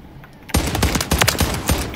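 Gunfire from a thermal-scoped gun in Modern Warfare 3, a quiet moment giving way to a rapid burst of loud, close shots in a fast, uneven rhythm lasting about a second and a half.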